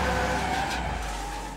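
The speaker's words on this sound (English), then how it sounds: "First, he dodges a truck that thunders through a red light." A truck speeds through a red light at a city intersection in Toronto, a steady broadband roar of traffic and engine noise that swells and then fades slightly as it passes close by.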